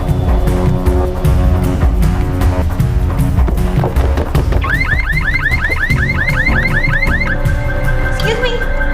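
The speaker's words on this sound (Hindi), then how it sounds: "वो गाड़ी का अलार्म बज रहा है" Green Volkswagen car alarm going off nearby, a loud repeating electronic whooping tone that cycles rapidly over a busy, clattering action-scene background.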